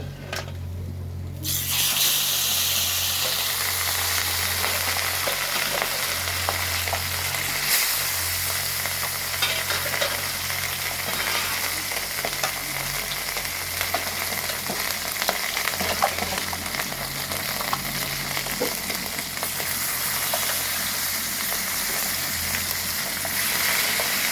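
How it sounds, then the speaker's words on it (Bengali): Katla fish fries in a pan of oil with a loud, steady, close hiss that starts abruptly and holds unbroken for the whole stretch, with no voices. "এই মাছগুলো ভাজা হয়ে গেছে, উঠিয়ে নেব।"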